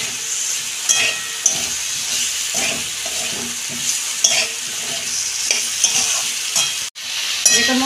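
Cauliflower and potato being stir-fried in spices, loud continuous sizzling with repeated spatula scrapes and clinks, a brief dropout near the end, then stirring resumes.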